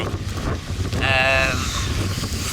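Wind buffets the microphone in a constant low rumble outdoors, with a brief tonal whine in the middle.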